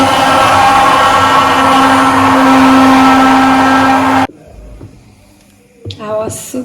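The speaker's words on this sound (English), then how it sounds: "we'll go ahead and combine it with our hand blender" A hand blender whirs loudly and steadily for about four seconds as it mixes a sobolo ice cream base with milk, then cuts off, leaving quiet handling sounds and a brief voice.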